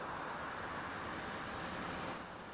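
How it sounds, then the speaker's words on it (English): A city bus in the OMSI bus simulator game pulls in to a stop, a steady low engine rumble with road noise that stays fairly quiet and constant, with no talk. "I hear a bus. Where is the bus?"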